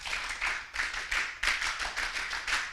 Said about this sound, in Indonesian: 1 kali tepuk Pramuka.